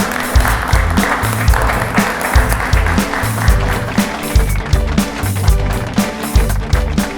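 Studio audience applause on an Odia devotional quiz TV show during an award presentation, rhythmic clapping in loud, pulsing bursts with a beat-like low thump underneath, sustained across the whole stretch.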